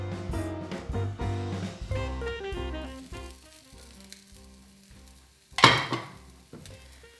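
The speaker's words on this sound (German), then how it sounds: "Wir sollen weiter hier die Pfanne rütteln." Ham and cheese fry in a pan while it is shaken, a soft sizzle under fading musical tones, then a sudden burst of louder frying and clatter near the end.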